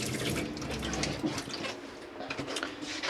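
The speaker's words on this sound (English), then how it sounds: "Got your water there, the pump's on and pressurised and nice, that's lovely and warm." Water runs steadily from a caravan tap with the pump switched on and pressurised, giving a continuous close splashing rush into the sink for a few seconds with no talking.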